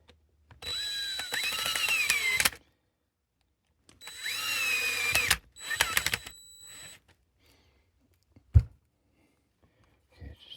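A power drill tightens the screws on an RV power cord clamp in three bursts of whirring, the motor speed rising and falling, with a short knock between pauses.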